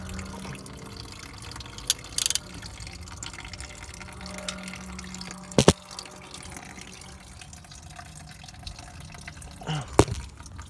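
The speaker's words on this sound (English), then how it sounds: "We got that dripping out, and it is going inside the bucket." Fuel drips from the filter of a 6.7 Powerstroke diesel truck into a bucket, a faint wet trickle with a few sharper splashes standing out against quiet background noise.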